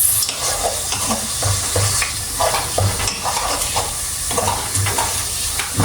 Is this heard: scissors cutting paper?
no